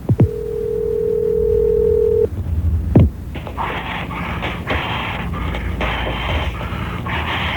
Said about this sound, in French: On va essayer le répondeur